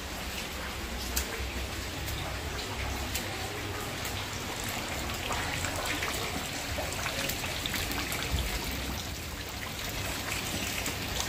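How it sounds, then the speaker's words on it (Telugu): Heavy rain in Vijayawada with rainwater overflowing a flooded terrace and pouring down stairs, a steady dense hiss of falling and splashing water with constant trickling, close and unbroken. "చూడండి పై టెర్రస్ నిండిపోయి వాటర్ పైనుంచి కిందకు అలా వస్తున్నాయి మెట్ల మీద నుంచి"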